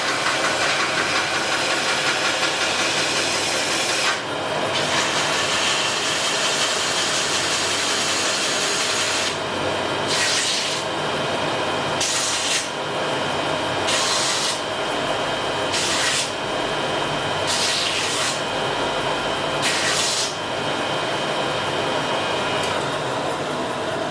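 A linisher belt grinds a steel part for a motorcycle frame in a Honda 500 engine and Norton Featherbed frame build, a loud, steady abrasive hiss that runs throughout and drops briefly at a few regular points as the workpiece is lifted and pressed back on.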